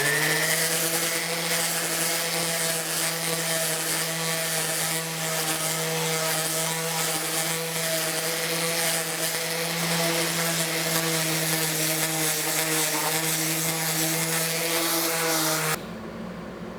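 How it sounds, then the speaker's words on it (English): A random orbital sander runs continuously against a wooden dovetailed box, a loud, steady high-pitched whine with a strong hum, cutting off abruptly near the end. "I'm just using a random orbital sander here, and start with 80 and work up to 220"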